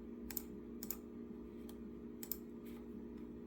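Keys on a computer keyboard are typed in short, sparse taps, about six clicks spread over a few seconds. They are close but quiet, over a faint steady hum.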